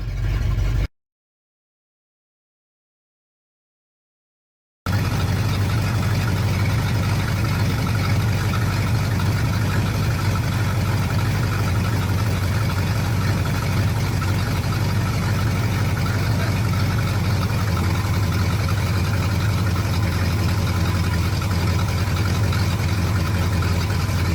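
A 1976 Ford F-250 with a 390 FE V8 idles while warming up, a steady low rumble running evenly after a short silent gap at the start.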